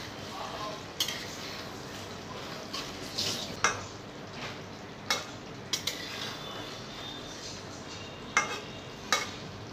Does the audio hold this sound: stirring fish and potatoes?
yes